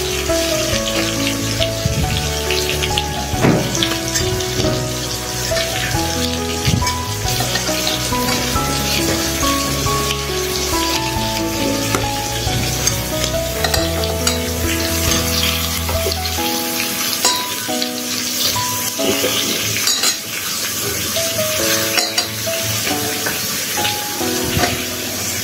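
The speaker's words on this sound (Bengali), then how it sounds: "এঁচোড়টাকে চর্বির সাথে ভালো করে ভেজে নেব।" Young jackfruit pieces fry in rendered chicken fat, giving a continuous dense crackle and sizzle that holds for the whole stretch, close by and fairly loud, easing slightly toward the end, with no voices.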